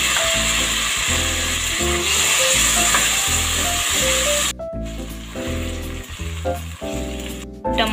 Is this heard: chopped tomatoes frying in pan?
yes